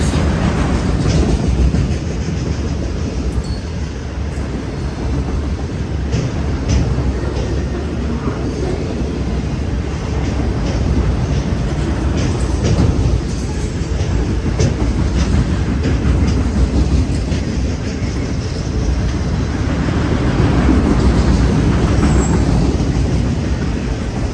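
CN freight train 508 rolls past with manifest cars and many auto racks, making a continuous heavy rumble with rhythmic wheel clatter that swells and eases over more than twenty seconds.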